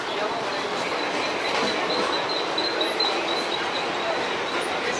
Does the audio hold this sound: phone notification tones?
no